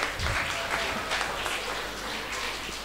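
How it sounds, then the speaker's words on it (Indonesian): Steady applause from a seminar audience at a national seminar on human trafficking and terrorism crimes, a dense, continuous clatter of many hands clapping at moderate distance for about three seconds. "Beri tepuk tangan yang meriah Bapak Ibu."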